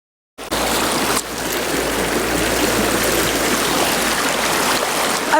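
River water rushing steadily over rocks on a nature walk, a loud, continuous close-up wash of flowing water that begins abruptly and holds without a break.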